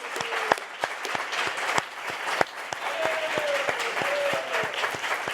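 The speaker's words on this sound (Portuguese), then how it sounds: "eu queria pedir aqui um aplauso para o Zinho, fazendo aniversário hoje, tetracampeão mundial." A crowd applauds for Zinho, the four-time world champion footballer, on his birthday, with scattered sharp claps spread over a steady, moderately loud clapping wash and a faint voice-like tone weaving through the middle.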